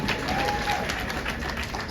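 A comedy club audience at a stand-up show applauds in a short, steady burst of dense clapping and crowd noise, close and fairly loud throughout.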